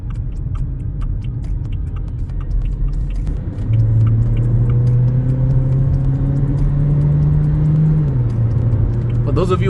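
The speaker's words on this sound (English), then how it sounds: "For those of you who wanted to see what it's like in overtaking power, there it is." A 2022 Haval Jolion accelerating hard while overtaking, heard from inside as a loud low engine drone that rises in pitch and holds the gear, with road rumble throughout.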